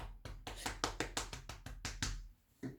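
A hand slaps against a hip to imitate applause: about eleven quick, evenly spaced slaps, then a short pause and one final slap, close and solitary.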